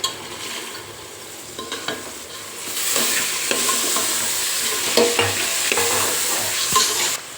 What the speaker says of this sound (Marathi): आपण मसूर असा अगदी चांगला परतून घेतलेला आहे सगळीकडून